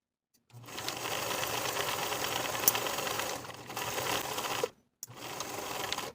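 A sewing machine stitches a half-inch side front seam on a dress, running in one long close burst, briefly easing off, then stopping for a moment before starting again.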